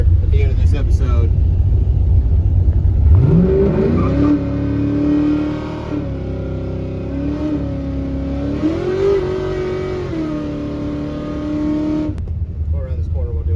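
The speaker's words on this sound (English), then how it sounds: "I owe you at least a little bit of a burnout here at the end of this episode." A car doing a burnout while being prepped for burnout wars: the engine revs up sharply and holds a loud, wavering high-rev howl for several seconds before cutting off, with a person talking before and after.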